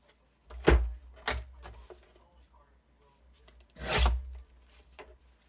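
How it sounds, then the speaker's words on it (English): Paper being trimmed to size for a handmade note card, giving two quick rasping cuts near the start and a longer scraping pass later, close and moderately loud with quiet pauses between. "I need to trim just a little bit off of this one."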